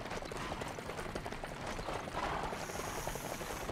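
In LEGO Worlds, a horse-drawn carriage clip-clops along with steady, rhythmic hoofbeats over a rumbling, rattling roll of wheels, close and continuous, with a brief high whine near the end.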